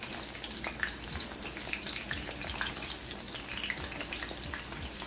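Overnight-seasoned fish fries in a pot of oil with a soft, continuous crackle and scattered small pops, heard faintly at a distance and with no voices.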